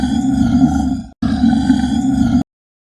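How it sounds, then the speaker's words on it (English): A tiger gives two long, loud, deep growling roars, back to back with a brief gap between them, close up and with no other sound, then falls silent. "Tiger."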